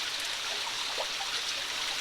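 A stream in Arizona's Mazatzal Wilderness flows steadily, a soft continuous hissing trickle of water heard close by and alone.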